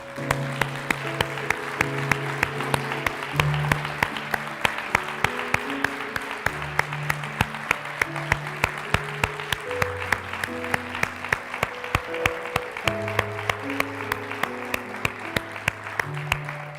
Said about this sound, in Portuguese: Eu queria que você aplaudisse a todos eles.